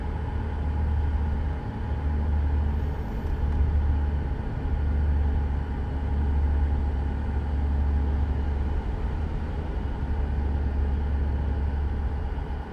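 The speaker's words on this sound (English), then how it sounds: "I say I have to rev up for downshift for the floating too." A Kenworth K100E single-axle truck engine in American Truck Simulator drones with a steady, deep rumble, holding a continuous low hum throughout with slight swells in revs.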